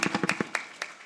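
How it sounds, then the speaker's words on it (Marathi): A brief burst of several close, sharp hand claps from an audience at a Marathi kirtan led by Balu Maharaj Girgaonkar, quick and slightly uneven, fading into a couple of scattered claps. "कोदरून टाळ्या वाजिल्या याय ना, कोदरून."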